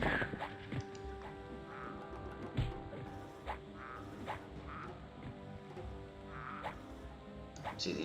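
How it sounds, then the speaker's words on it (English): Frog croaks from the video game EverQuest, several short croaks spread at irregular intervals across a busy game soundscape of clatters and hits, with some faint talk. "Just kill this frog."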